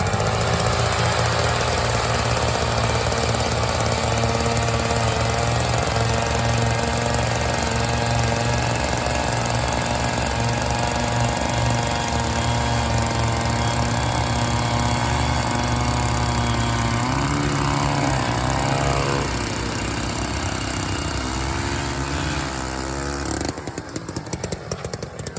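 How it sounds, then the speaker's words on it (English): Several small gas- and propane-powered ice augers, including Eskimo and Jiffy models, drill through ice, roaring continuously at high revs in a steady loud whining drone that cuts off abruptly near the end. "we're gonna do the ice auger tip off here."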